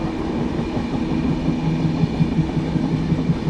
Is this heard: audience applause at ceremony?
no